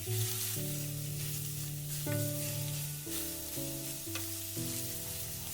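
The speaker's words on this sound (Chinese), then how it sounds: "把肉末放入锅中，开中小火快速的翻炒" Minced pork stir-fries in a wok over medium-low heat, a continuous bright sizzle with a couple of faint stirring taps, steady and close under a layer of background music.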